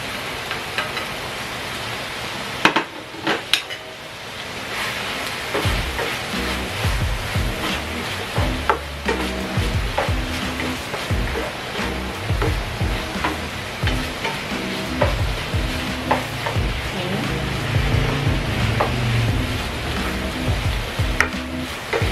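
Sliced ham sizzles steadily in a hot pan while a utensil scrapes and stirs it in repeated clattering strokes, close and continuous, with no speech.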